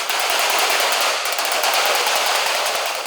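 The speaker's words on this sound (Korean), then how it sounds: "최소리 씨가 알루미늄 판을 두드리고 있다." Rapid, dense tapping of a hammer on an aluminum plate forms a continuous metallic rattle, close and loud, with no pause across the stretch.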